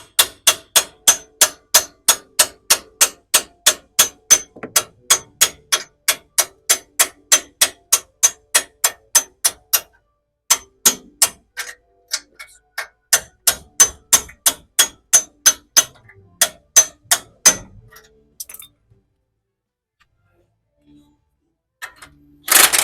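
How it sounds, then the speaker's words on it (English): A bolt being tapped out of a Toyota 200 Series Land Cruiser during a leveling kit install: a long run of sharp, evenly spaced metallic hammer taps close by, briefly pausing, then resuming less regularly before falling quiet. "And then once you have that, you can get a"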